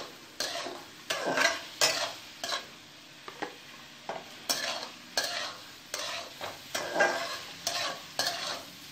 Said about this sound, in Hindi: तो अभी मैं ऐसे ही इसे सौते करूंगी